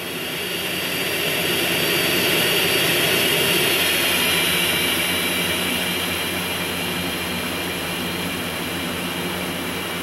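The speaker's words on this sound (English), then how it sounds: "This is flight CJ-101 out of Liberty City, requesting final approach to Los Venturas International." Jet airliner in Grand Theft Auto San Andreas on final approach to Los Venturas International airport, a loud continuous engine roar and rushing whine that swells slightly and holds steady throughout.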